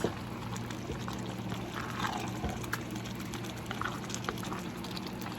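Sweet onion jam bubbles and simmers in a pan, a steady close sizzling and popping with soft gurgles and no talking.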